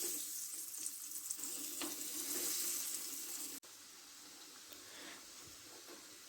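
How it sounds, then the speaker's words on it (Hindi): Bread cone samosas fry in medium-hot oil with a steady, close sizzling hiss that suddenly falls quieter about halfway through and stays softer to the end; no one speaks. "ऑयल को मैंने मीडियम फ्लेम पे रख के गरम कर लिया था। अब हम इसमें ये फ्राई करेंगे।"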